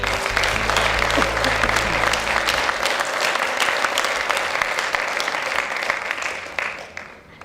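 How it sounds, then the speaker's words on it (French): An audience applauds steadily throughout a regional medal ceremony in Aveyron, with a dense wash of many hands clapping that fades slightly at the very end. "on les applaudit."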